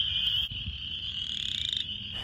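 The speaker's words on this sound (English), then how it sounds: "The sound of spring behind me is the sound of spring peepers" Spring peepers and chorus frogs, tiny tree frogs, call in a dense spring chorus: a continuous, loud, shrill high-pitched peeping close by, with no voices.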